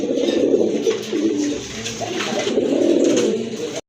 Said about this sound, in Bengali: এটা হচ্ছে আপনার একটা নর কবুতর, গররা কালার কোয়ালিটি, গররা কবুতর